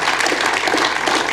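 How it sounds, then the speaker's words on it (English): Audience applause at a live Q&A event, a dense, steady wash of many hands clapping, loud and close, with no speech. "Let's give her a round of applause."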